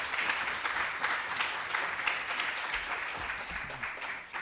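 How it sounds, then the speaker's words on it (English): Audience applause after a professor's presentation at a decoloniality summer school, a continuous, fairly soft wash of many hands clapping that holds steady for several seconds before easing slightly at the end. "Can we give Prof. Louis Gordon a round of applause once again?"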